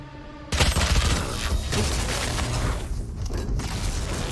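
Gunfire in Valorant, with a sudden loud burst of shots followed by continued rattling fire and impacts, close and dense, with no talking over it.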